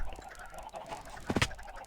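Chickens clucking on a chicken farm in Minecraft, a few short close squawks over soft background noise, with one louder burst near the end.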